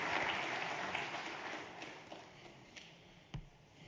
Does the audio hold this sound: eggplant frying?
no